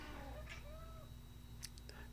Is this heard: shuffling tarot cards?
no